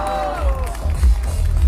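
A crowd at an open mic grand finale claps and cheers in a steady, dense wash of applause with scattered whoops, close and lively throughout.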